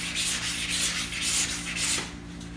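A steel card scraper is drawn in steady, repeated rubbing strokes across a sharpening stone, each pass a close, gritty scrape in an even back-and-forth rhythm, with no voices.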